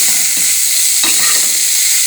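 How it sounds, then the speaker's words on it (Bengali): Small fish fried with fresh coriander leaves being stirred in a pan, giving a steady close sizzle with a couple of scraping stir strokes across a short stretch, no voices. "ধনিয়া পাতা দিয়ে একটু নেড়ে মিশিয়ে নিব,"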